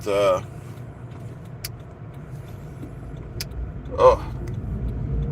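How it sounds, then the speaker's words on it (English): A car drives on a Buffalo morning, heard from inside the cabin as a steady low road rumble and engine drone throughout, with brief vocal bursts at the start and near the end and faint clicks. "Driving in our rich man's car"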